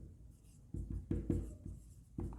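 A pen scratches out an accounting journal entry by hand in several short, close strokes and taps, with brief pauses between them.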